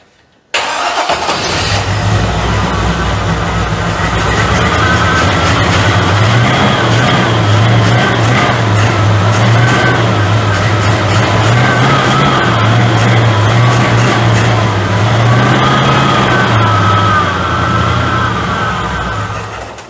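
A 1940 coupe's engine cranks and catches, then runs loud and near at a steady idle with a few light revs, while a thin, wavering power-steering whine rides above the engine note throughout.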